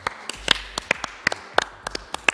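A small group claps at a church watch party, with sparse, uneven individual claps spread across a couple of seconds, close and fairly quiet.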